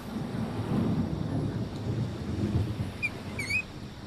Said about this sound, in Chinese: 就是浪声和雷电一起的。